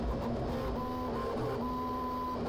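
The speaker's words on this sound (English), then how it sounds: "this printer has active chamber heating, which rapidly increases the chances of success printing ABS or nylon." A QiDi Tech Q1 Pro high-speed 3D printer with active chamber heating runs steadily, its stepper motors whining and buzzing in shifting tones over a constant fan hum, close and moderately loud, with no talking.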